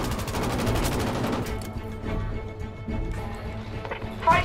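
Rapid machine gun fire in a video game rattles in a dense, continuous burst, then thins out into scattered shots and rumbling, loud and close.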